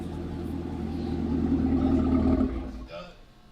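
A 2016-2022 Camaro SS exhaust through a new AWE Touring non-resonated catback, a deep loud rumble swelling for a couple of seconds then dropping off, with people talking over it.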